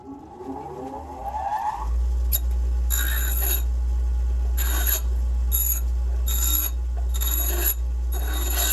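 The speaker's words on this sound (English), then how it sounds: "Unfortunately this saw is not the best for cutting." Short bursts of a power saw biting into an exhaust tube for a custom exhaust on an LS3-swapped BRZ, several loud, harsh rasping cuts over a steady low motor hum, close and without talk.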